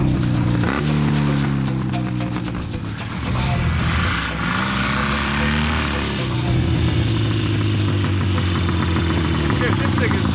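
A Metisse motorcycle engine runs on a ride with a deep, steady rumble and a low drone that rises and falls in pitch as the revs change. It stays loud and close the whole time, with voices heard over it.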